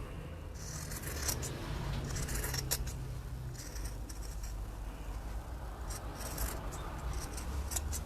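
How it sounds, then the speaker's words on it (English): Scissors trim tote bag fabric in quiet, close snips, short bursts of crisp cutting separated by pauses over a faint low hum. "I'm just going to trim it back."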